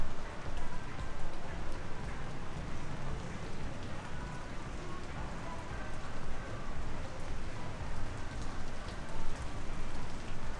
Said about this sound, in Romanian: Ploaia evident că s-a întețit.